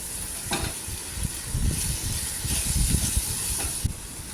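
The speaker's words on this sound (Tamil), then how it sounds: "அப்படியே கொஞ்சம் கொஞ்சம் அதை வதக்கிட்டே இருக்கலாம்." Mixed vegetables being sautéed and stirred in a pan for a soft pakoda gravy, giving a steady close hiss and sizzle with soft scraping stirs throughout.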